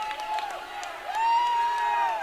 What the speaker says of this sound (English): Crowd standing up and applauding.